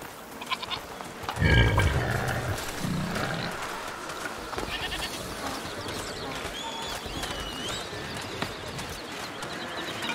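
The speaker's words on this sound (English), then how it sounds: "Can't wait to hear you bleat into battle." A goat bleats near the start in A Plague Tale: Requiem, a short wavering call over a constant outdoor ambience, with faint clopping and bird-like chirps later.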